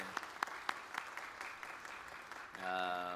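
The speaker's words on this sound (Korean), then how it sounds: "하나님께 영광의 박수 올립니다." Congregation clapping during a Korean church new-year prayer service, soft and fairly distant, a few distinct claps over a low patter before a voice begins speaking near the end.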